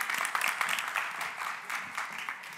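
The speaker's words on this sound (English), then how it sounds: "Please give a warm round of applause to Professor Hein de Haas." Steady applause from a lecture audience welcoming a speaker, dense clapping that stays fairly even throughout without anyone speaking over it.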